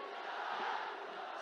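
A large crowd at an outdoor political rally roars and cheers in a sustained, distant-sounding wash of voices, with no clear individual claps standing out.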